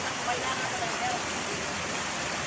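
A waterfall rushes outdoors in a nature spot, a loud, steady broadband roar that fills the scene, with people talking over it.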